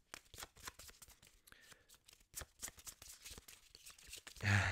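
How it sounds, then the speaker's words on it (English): A deck of board game cards is shuffled by hand in a rapid series of crisp riffling bursts, close and fairly quiet, with no talking and a louder knock at the very end. "Then we are shuffling these cards"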